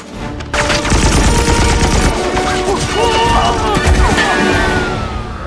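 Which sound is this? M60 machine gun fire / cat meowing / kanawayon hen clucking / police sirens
M60 machine gun fire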